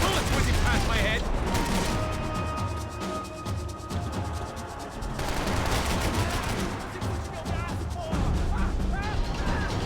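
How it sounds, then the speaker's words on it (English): Max Payne 3 firefight: dense bursts of automatic gunfire and sharp shots crackle continuously, with bullets whizzing close by, loud throughout and overlapping brief voices. "I can't concentrate with bullets whizzing past my head."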